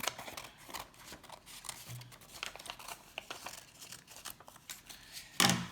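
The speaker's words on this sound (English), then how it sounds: "Take your scissors and then cut on one of those lines that you just folded." Scissors cut paper along fold lines while making origami, with soft crisp snips and paper crinkling close up and quiet, ending in a louder rustle of handled paper.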